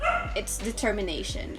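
A dog barks and yips a few times in short sharp bursts close by, under a person speaking.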